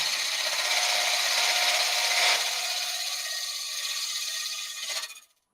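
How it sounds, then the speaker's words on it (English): Hunter carbide cutter shaving wood on a lathe, a steady close hissing scrape that fades slightly before cutting off abruptly near the end. "So I've got the little Hunter carbide cutter on here."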